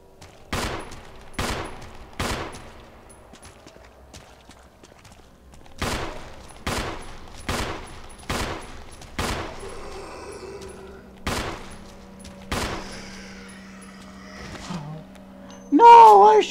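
Gunfire at zombies in the Resident Evil HD Remaster video game: a string of sharp, loud single shots spaced about a second apart, with a pause and then more shots that ring out. A brief shout follows near the end.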